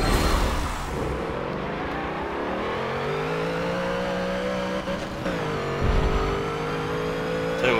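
A Volkswagen Ghia built past 900 horsepower drag racing in Forza 7, its engine climbing loudly through long rising revs with gear shifts and a tire chirp, sustained and close throughout.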